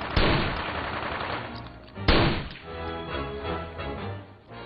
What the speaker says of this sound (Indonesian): Eric datang dan langsung memberondong Ray dengan tembakan.